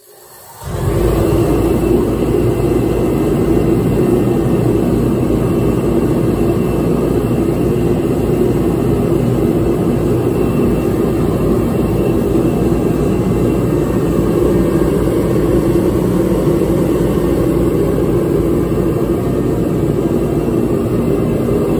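A Master kerosene/diesel 140,000 BTU forced-air heater kicks on after a brief quiet moment, then roars with a loud, steady low-frequency fan-and-burner rumble that holds constant to the end.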